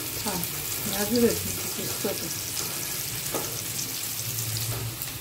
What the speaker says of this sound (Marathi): आता बारीक चिरलेला कांदा तो टाकायचा. थोडासा गोल्डन होईपर्यंत भाजून घ्यायचा ना.